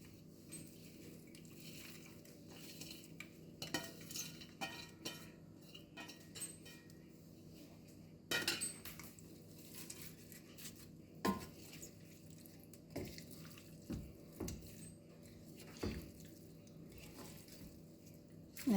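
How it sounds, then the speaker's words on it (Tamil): Fried onions being stirred into chicken in a metal pot, with scattered clinks and scrapes of a spoon against the pot and soft squishy stirring, quiet and intermittent. "நல்லா கிண்டி விட்டுருங்க."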